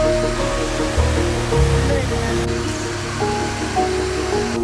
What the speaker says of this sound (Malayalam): ഇതാണ് പാമ്പാർ നദി.